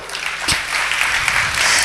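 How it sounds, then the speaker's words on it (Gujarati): Audience applause at a religious discourse during a Shrimad Bhagavat Katha at an ashram in Haridwar: steady, dense clapping from a crowd that fills the whole moment, loud and continuous. "જરા તાળીઓ વગાડો"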